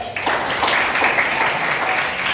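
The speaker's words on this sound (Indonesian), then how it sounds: "Oke, kasih aplaus." A classroom of students claps together during a group discussion lesson, a dense, steady burst of applause at close range.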